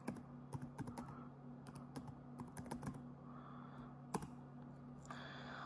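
Keystrokes on a computer keyboard entering student data, scattered quick clicks in short bursts over a low steady hum, fairly faint and close.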